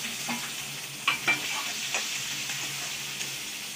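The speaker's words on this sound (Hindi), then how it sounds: "हमारा तेल गरम हो गया है। अब इसमें हम डालेंगे जीरा तड़के में।" Cumin, garlic and green chili sizzle in hot oil in a pan, a steady close hiss of frying with a few soft stirring scrapes, heard alone without talk.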